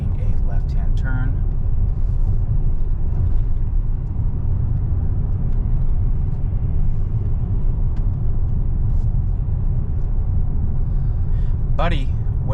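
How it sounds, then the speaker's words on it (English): A Tesla drives itself on Full Self-Driving beta, a constant loud interior road rumble and engine hum running throughout, with faint brief voices and a couple of short squeaks over the steady drone. "this car is driving itself"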